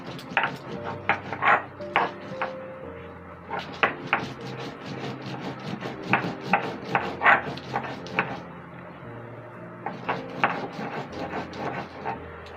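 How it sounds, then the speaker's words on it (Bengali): Pumpkin flowers, garlic cloves and fried dried chilies being ground on a grinding stone: repeated clacking, knocking strokes in uneven bursts, close by, with brief pauses between runs. "এবার এগুলো সবগুলো একসাথে বেটে নেব।"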